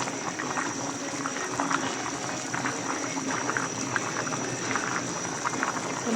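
Fish curry boiling in a pot, a steady bubbling simmer with constant soft popping and gurgling, close and even throughout.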